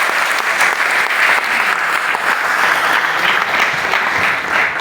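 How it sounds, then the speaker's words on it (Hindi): Sustained, loud applause from an audience at an RCM product promotion event in Mumbai, dense and steady throughout with no talk over it. "बहुत बढ़िया, बहुत जोरदार तालियां बजाइए"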